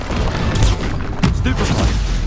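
Spell casting in the wizarding game Hogwarts Legacy, a loud magical burst with booming impacts layered over continuous combat noise and shouted incantations.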